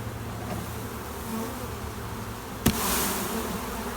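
Honey bees buzzing at an open hive while a queen-rearing cell starter is set up, a steady close hum with one sharp knock partway through and a brief rush of noise after it.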